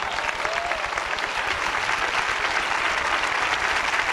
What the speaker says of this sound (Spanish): denle un aplauso al maestro esta noche.